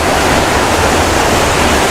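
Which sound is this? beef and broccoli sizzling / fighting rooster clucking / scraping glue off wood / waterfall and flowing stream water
waterfall and flowing stream water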